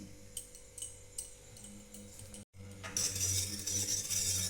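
A metal spoon stirs baking soda into a bowl of water, giving repeated light clinks and scrapes against the bowl, close and fairly quiet, with a brief gap midway and a brighter, busier stretch of stirring after it.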